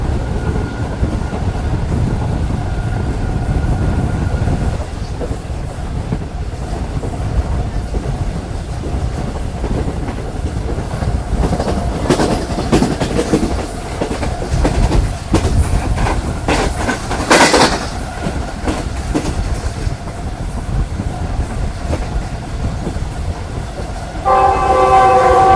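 Green Line passenger train from Lahore to Karachi running through a station in Pakistan without stopping: steady loud rumble and wheel clatter, a long horn blast midway and another short horn near the end.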